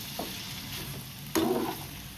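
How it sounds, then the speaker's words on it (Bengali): Eggplant frying in a pan over a low flame, a quiet continuous sizzle with a brief louder crackling burst partway through, close by and without talk. "অল্প পরিমাণে একটুখানি নুন দিয়ে দিলাম, যাতে বেগুনটাও তাড়াতাড়ি ভাজা হয়ে যায়।"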